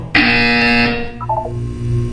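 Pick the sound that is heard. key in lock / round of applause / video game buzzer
video game buzzer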